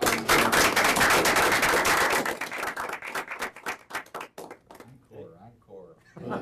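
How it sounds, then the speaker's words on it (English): An audience bursts into dense, loud applause lasting about three seconds, then the clapping thins out and gives way to a person talking. "I'd like to give them a round of applause."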